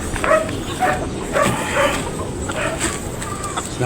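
Stag roosters roaming in a yard, making clucking and crowing-like calls, with dogs barking and whimpering nearby, all fairly loud and continuous against outdoor background noise.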